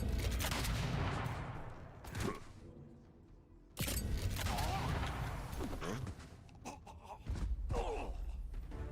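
Gun line volley fire in the strategy game Age of Wonders 4, several loud bursts of musket shots with short gaps between them and battle noise underneath.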